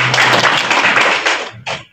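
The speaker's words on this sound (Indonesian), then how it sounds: "Tepuk tangan ada saya." Audience clapping at a Bambu Kuning silat association general assembly in Kendal: a dense, loud burst of hand claps that thins out near the end, with a brief final flurry before it stops.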